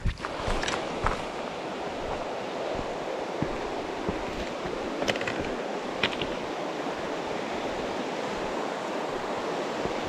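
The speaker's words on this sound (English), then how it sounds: "this is Caldwell Fork Creek" Caldwell Fork Creek flowing along the Caldwell Fork Trail in the Cataloochee area of Great Smoky Mountains National Park, a steady broadband wash of water running throughout with a few faint footsteps or clicks, no voices.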